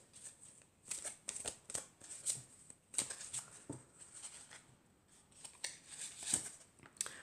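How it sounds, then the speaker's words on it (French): Oracle cards of love are shuffled by hand in quick flurries of soft riffling and slapping, close and fairly quiet, with short pauses between bursts. "je vais prendre quelques cartes de l'oracle de l'amour"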